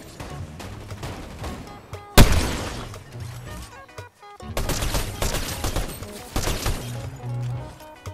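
Bursts of automatic gunfire in Fortnite, a sharp loud blast followed by rapid overlapping volleys and a second long stretch of dense shooting, close and aggressive with no talk over it.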